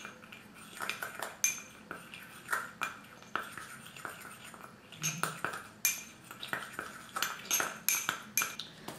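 A spoon mixes bronze colorant for homemade eyeliner in a small container, giving repeated close metallic clinks and scrapes in an irregular rhythm, with no talking.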